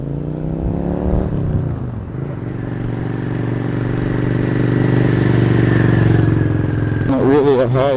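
A Yamaha Dragstar 650 motorcycle engine pulls through the gears, a loud, steady, low throbbing drone that dips briefly at a shift and then climbs, with someone talking over it near the end.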